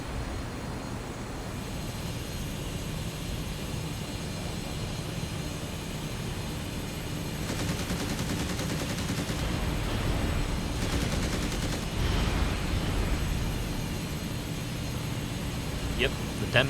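Me 262 jet's cannons firing in the IL-2 Great Battles flight sim, loud bursts of rapid gunfire over a steady roaring jet engine drone, with a couple of short volleys standing out midway.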